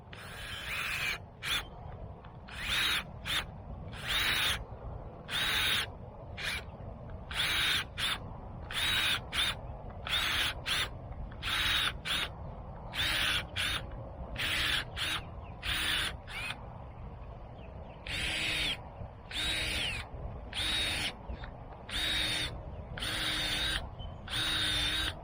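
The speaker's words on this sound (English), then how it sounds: "and then I can come in here with my auger." A small auger bores into garden ground cover in a long run of rapid buzzing bursts, motor whining on and off in short pulses, steady and fairly close with no talk over it.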